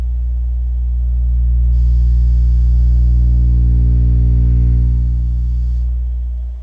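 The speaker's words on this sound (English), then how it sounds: "What you hear is the video lights rattling." A Miller and Kreisel subwoofer fed a low test tone, a loud steady hum with a harmonic buzz as nearby video lights rattle against the vibration, sustained alone without speech.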